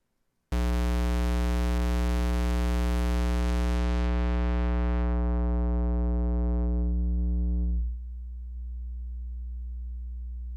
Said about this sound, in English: it almost sounds like a sine wave now